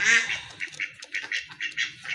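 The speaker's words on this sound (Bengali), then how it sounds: "খুবই তেজি অ্যাক্টিভ কবুতর এই যে দেখেন ডাকতেছে কিন্তু অলরেডি" Desi raj golla pigeons call in a rapid series of short, bright bursts, about a dozen close calls in quick irregular succession.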